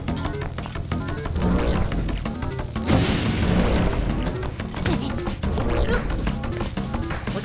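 Bomb blasts in Zelda: Link's Awakening, dense booming crashes layered over game music, loud and continuous with a stronger burst near the middle.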